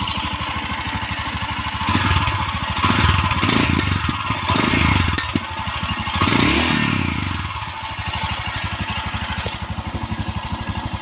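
A Royal Enfield Scram 440 motorcycle engine runs steadily nearby with a throaty exhaust rumble, revving up briefly a few times before settling back to idle.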